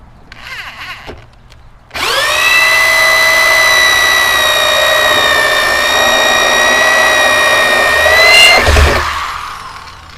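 A power drill starts after a short quiet stretch and runs loud and steady at high speed for about six seconds, then winds down with a brief clunk near the end.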